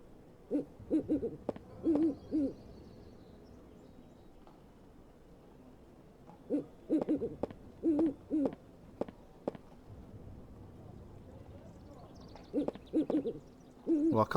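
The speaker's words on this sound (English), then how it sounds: "Well, I can certainly hear this pigeon." Pigeon cooing inside the adventure game Mozart: The Last Secret, heard as soft, low, rounded coos in three separate clusters with quiet pauses between them and no voices.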